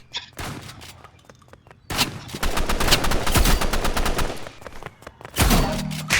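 Rapid gunfire from a shotgun in the video game Rivals: scattered sharp shots early, then a dense sustained burst of blasts in the middle and another loud volley near the end.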